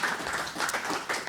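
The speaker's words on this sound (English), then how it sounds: "I want to give him a round of applause." Brief audience applause at a panel event, a dense patter of clapping hands at moderate level with no talk over it.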